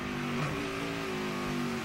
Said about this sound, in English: Paul Menard's car wheel hop